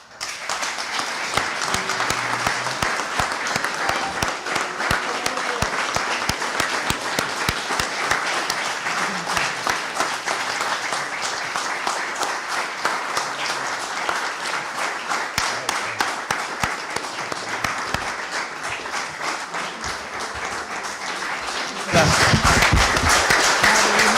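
Sustained audience applause at a poetry and cardiology talk, dense steady clapping from a crowd for over twenty seconds, growing louder and closer near the end.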